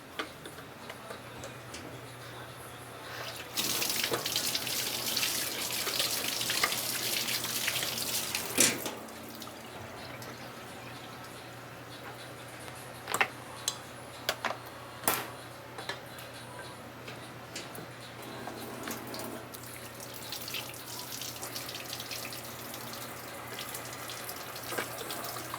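Tap water runs steadily into a kitchen sink during hand washing while vegan cookies and banana bread are being made, a broad splashing hiss strongest early on, with a few sharp ticks and clinks later.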